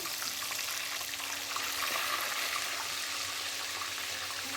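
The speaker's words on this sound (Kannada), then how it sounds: "ಎಣ್ಣೆ ಎಲ್ಲ ಬಿಸಿ ಆದಮೇಲೆ ಒಂದೊಂದೇ ಪೀಸ್ನ ನಿಧಾನಕ್ಕೆ ಆ್ಯಡ್ ಮಾಡ್ಕೊಳ್ಳಿ ಸ್ವಲ್ಪ ಸಿಡಿಯೋ ಚಾನ್ಸಸ್ ಜಾಸ್ತಿ ಇರುತ್ತೆ" Chicken kabab pieces fry in hot oil on a medium flame, giving a steady, fairly quiet hiss and sizzle with soft crackles and no talking.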